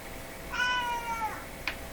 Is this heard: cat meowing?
yes